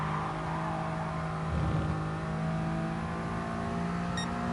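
A Honda S660 engine in Gran Turismo Sport hums and revs at moderate volume, rising briefly then settling into a steady drone.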